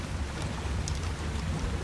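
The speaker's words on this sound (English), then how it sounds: "The middle of the night, and it rains." Steady rain hisses through a nighttime video game scene, a dense continuous wash of fine patter with a low rumble beneath, no voices present.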